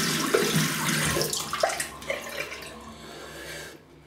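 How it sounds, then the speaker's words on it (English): A slant razor is rinsed under running tap water, a loud, steady rush of splashing flow that eases off and stops near the end. "let's have a little rinse and see if there's anything needs to be picked up"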